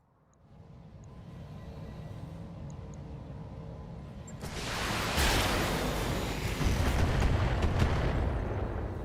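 A single missile strike lands in a naval battle game: a steady low engine rumble gives way to a sudden broad, loud explosive burst that rolls on as a sustained roar, with no talking.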